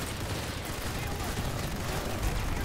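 An XMG-100 machine gun in the PlanetSide 2 game fires in a steady, dense, sustained burst that fills the whole stretch as one continuous rattling roar, with no clear gaps between shots.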